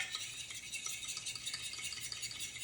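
Pancake batter made with heavy cream and flour being beaten by hand, a quick rhythmic scraping and tapping that stays soft and continuous, with no talking.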